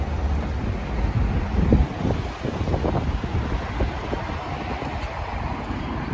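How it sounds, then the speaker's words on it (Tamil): Strong, cold wind outdoors in Adelaide, buffeting the microphone with a continuous loud roar and gusty low rumble, with no talk over it. "வெயில் அடிக்குது, ஆனால் குளிர் காற்று ரொம்ப பலமாக இருக்குது"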